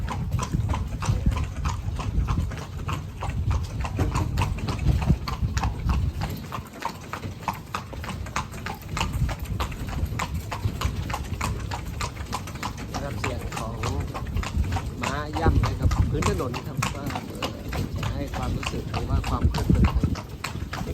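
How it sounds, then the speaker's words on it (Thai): A horse pulling a carriage clip-clops steadily and close by during a ride through the city streets of Lampang, Thailand, its hooves keeping an even rhythm under ongoing talk. "วันนี้เรานั่งรถม้า ชมแล้วก็อ่านไปเรื่อยๆ"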